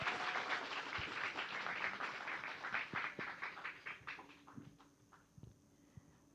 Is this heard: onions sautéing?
no